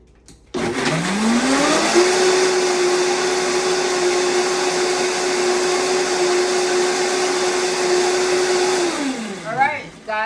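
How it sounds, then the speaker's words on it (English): A blender whirs loudly and steadily, blending a raw vegan pad thai sauce with dates and ginger. The motor spins up, holds one even pitch for about eight seconds, then winds down to a stop. "I'm just going to go ahead and blend this together"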